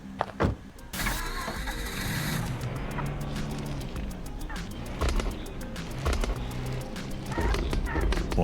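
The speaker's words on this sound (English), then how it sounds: "Boy, this car is a noisemaker." A run-down used car in Used Cars Simulator makes a steady, fairly loud mechanical noise, with rattles and clunks recurring in a rough rhythm throughout.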